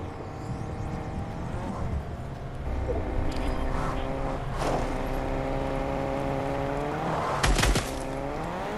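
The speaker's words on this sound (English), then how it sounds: "Oh, I hear a car." A car engine in Fortnite hums steadily with rising and falling revs, a sharper burst of noise near the end, and no talking.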